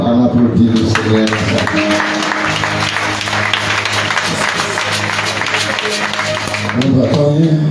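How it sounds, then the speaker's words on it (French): A church congregation claps steadily and loudly throughout, its applause blended with music and crowd voices that carry underneath. "On applaudit le Seigneur."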